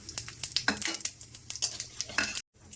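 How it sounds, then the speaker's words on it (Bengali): Whole cumin, two chilies and two bay leaves crackle in hot oil, with close, uneven spatters and utensil clinks for a few seconds, then a brief drop to silence. "ফোড়নে লাগছে সাদা জিরে দুটো লঙ্কা আর দুটো তেজপাতা"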